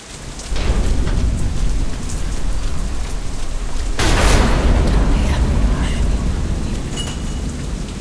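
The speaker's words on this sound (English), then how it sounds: "damn storm." Steady rain pours in a Deadlight game scene while a deep rumble of thunder swells midway and lingers beneath the downpour, loud and close, with no voice over it.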